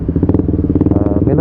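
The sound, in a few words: KTM Duke 200 motorcycle engine running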